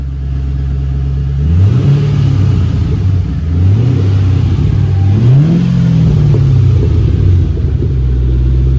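Engine of a 2006 Ford Mustang GT with its stock exhaust, idling as a steady low rumble, then revved three times in rising-and-falling sweeps before settling back to idle; close and loud, no talking.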